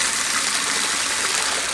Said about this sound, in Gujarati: હું મારા ત્યાં છે ને પાણી નાખું છું, એક ડોલ ભરીને.